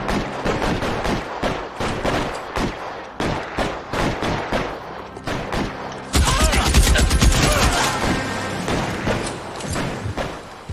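Gunfire in the 1940s Los Angeles crime game L.A. Noire, with a rapid series of loud, close shots in irregular bursts, giving way to a dense, sustained roar of firing and impacts.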